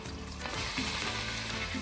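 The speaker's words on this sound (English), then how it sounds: "chuck in the frying pan, fry that up for a little bit" Steady, loud sizzling of pork frying in oil in a hot pan, a dense crackle that continues without pause.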